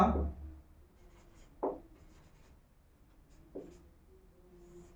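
A teacher writing Hindi words on a board, a few distinct strokes of chalk or marker, one loud at the start and two shorter bursts spaced apart, in a quiet room.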